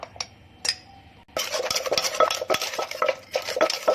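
Pounded banana salad is mixed with seasoning and fermented fish, a few scattered knocks, then a steady run of scraping, clinking stirs against the mortar and utensil, close and crisp with no voices.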